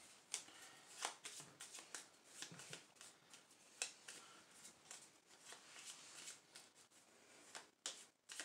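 Clue board game cards being shuffled by hand, a quiet run of riffling and flicking bursts repeated over several seconds, close up with no talking.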